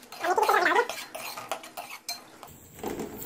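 Mutton tripe stir-fried in ghee in a metal pot, with clattering pot and spoon scrapes and sizzling, loudest at first and then lighter, with intermittent knocks.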